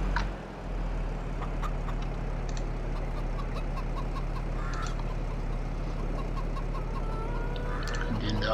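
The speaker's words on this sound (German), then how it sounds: "Hühner füttern, das können wir nebenbei hier machen." Chickens in the farming video game Farming Simulator 22 give scattered soft clucks over a constant low engine-like hum, moderately distant, with faint speech-like sounds in the mix.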